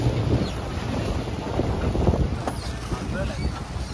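A boat comes in at a jetty on the way to Coral Island in Thailand, heard as a steady engine rumble mixed with wind buffeting and water noise, with voices in the background.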